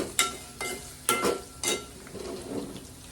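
Homemade hair oil being stirred in a pan, with a few distinct scraping strokes of a spoon against the metal, spaced about half a second apart, over a soft sizzle.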